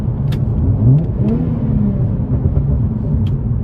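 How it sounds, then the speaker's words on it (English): A 2016 Hyundai Genesis Coupe 3.8 with a resonator delete rumbles steadily while revving, heard from inside the car, with a few faint pops and no talk. "I'm gonna give y'all a few revs though."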